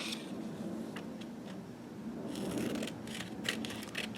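Scissors snip through paper during a glue-and-cut craft project, giving several soft, sparse cuts followed by a cluster of sharper snips toward the end, close by and fairly quiet, with no speech.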